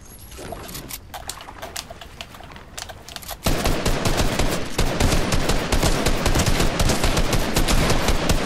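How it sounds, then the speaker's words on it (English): An infantry rifle in Fortnite fires as a close, loud burst of rapid shots. The fire starts sparse, then becomes a dense, sustained volley with no talking. "I officially love the infantry rifle"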